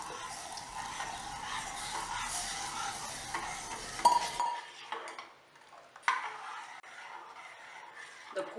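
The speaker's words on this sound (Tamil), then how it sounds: "அரிசி மாவை கொஞ்சம் கொஞ்சமாக விட்டு அப்படியே கிளறிக்கிட்டே இருக்கலாம்." Rice flour being stirred into boiling jaggery syrup for koozh in a pot on the stove, giving a soft steady bubbling sizzle with spoon scrapes, then quieter intermittent stirring and clinks.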